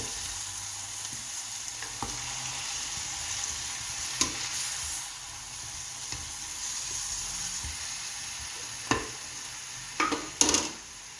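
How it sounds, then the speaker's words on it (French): Beef for boeuf bourguignon added to a pot of carrots and onions, frying with a soft steady sizzle and occasional stirring knocks and scrapes, no voices. "on va rajouter la viande. On va mélanger un petit peu."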